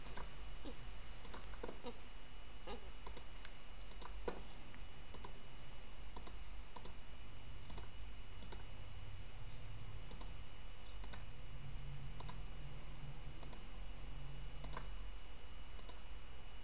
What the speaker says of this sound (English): left click, right click on the mouse